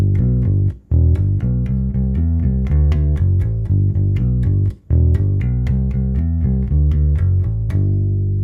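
A bass guitar plays a repeating riff, firm plucked notes in a steady rhythm, cutting out briefly twice before the line resumes, loud and close with no talking.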